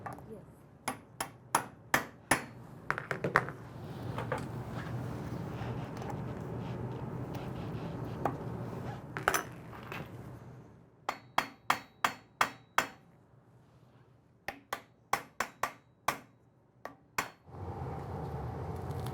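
Rivets being hammered on an orthotic device in a workshop, sharp metallic taps in quick bursts of several strikes with short gaps, close and loud, with a low hum and some background talk between the series.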